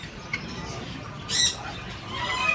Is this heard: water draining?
no